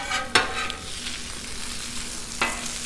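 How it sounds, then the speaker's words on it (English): Spicy Italian sausage breakfast skillet stirred in oil and butter on a Blackstone griddle, a constant sizzling hiss broken by two sharp metal spatula scrapes. "I'm gonna mix that up, get that oil and butter all over this stuff."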